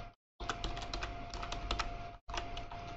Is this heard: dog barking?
no